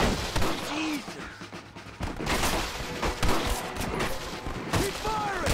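A rapid exchange of gunfire in Red Dead Redemption, with close, dense bursts of shots and ricochets mixed with a voice shouting in the middle of the fight.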